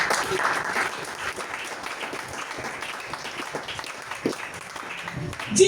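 A church congregation applauds in praise, sustained crowd clapping that is loudest at the start and carries on as a steady wash under a voice, swelling again briefly at the end.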